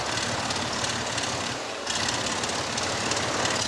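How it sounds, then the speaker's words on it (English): Single-piston aircraft engine running during a magneto grounding check with both mags switched off, a steady loud rumble that briefly sags and thins before picking back up, with no voices. "we should hear the engine start to quit because of ignition loss as both mags become grounded."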